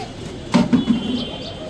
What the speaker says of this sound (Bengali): এখন মোটামুটি এখানে প্রায় 30-35 পিস কবুতর হবে